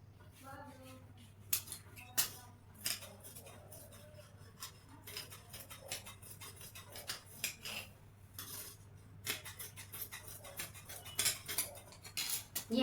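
Scissors snipping through blouse cloth during tailoring, intermittent close clicks and blade scrapes against a table, quiet with brief pauses between bursts of cuts.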